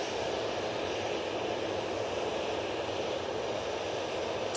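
A Ryanair Boeing 737-800 jet roars steadily at Manchester Airport as it lines up and takes off, a loud, continuous broadband engine rush holding even throughout with no voices.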